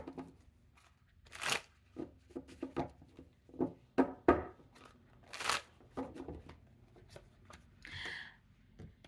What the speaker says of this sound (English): you see me shuffle. I don't stack the deck.